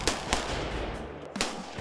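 Rifle gunshots at a live-fire military training range, three sharp loud reports spaced irregularly over a steady outdoor background, with no talk.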